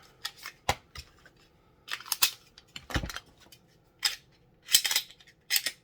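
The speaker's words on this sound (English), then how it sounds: "Let me get the other mag in." An Arex Delta pistol magazine is handled and seated into the grip. The sound is a series of sharp, separate metallic clicks and snaps, close and fairly crisp, with quiet pauses between them.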